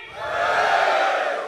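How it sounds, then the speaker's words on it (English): Men in an audience at an award ceremony letting out a loud collective cheer, a single swelling roar of voices that rises and fades over about a second and a half. "on the count of three, all of the men give me a cheer"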